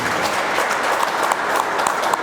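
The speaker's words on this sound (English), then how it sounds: "Can you please give them a round of applause?" A crowd applauds at a Cameroon flag raising ceremony in Newark, New Jersey, with brief, steady clapping from many hands at a constant level throughout.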